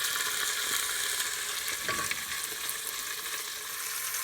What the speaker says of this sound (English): we've browned the pork chops or the center cut pork chops on both sides until they're nicely brown